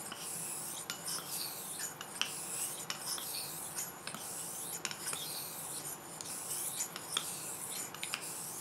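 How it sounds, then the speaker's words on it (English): A steel knife is sharpened on a 6k whetstone, with close, steady rhythmic rasping strokes back and forth, fairly quiet and with no talking. "You can feel the stone working on the steel."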